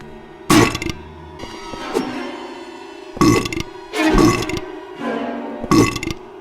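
Hospital monster from the Silent Hill 4 video game giving wet, guttural growls and belch-like snarls in about five loud bursts over a murky, rumbling background, with no talking.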